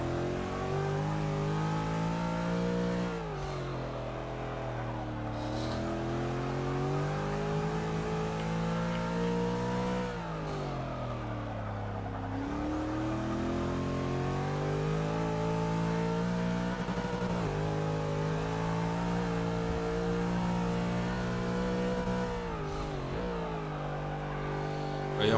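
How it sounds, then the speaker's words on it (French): A race car engine on the Nordschleife revs hard through repeated climbs in pitch with brief drops at gear changes, a loud, continuous onboard howl with no talk. "Je vous laisse profiter un petit peu du moteur."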